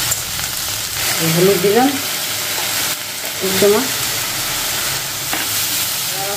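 Vegetables and onion frying in a pan for a Bengali egg malai curry, a steady close sizzle and hiss running throughout, with someone briefly speaking over it twice.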